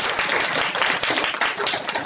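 An audience at a spiritual talk in Gurugram applauds steadily, giving a dense, continuous wash of many hands clapping that stays loud and even throughout.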